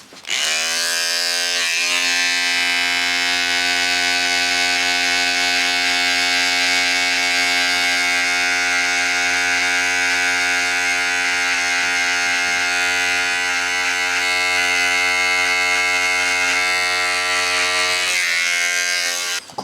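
Electric hair clippers run steadily with no guard and the taper lever open during a buzz cut, a close, loud, even mechanical hum holding for nearly twenty seconds before switching off.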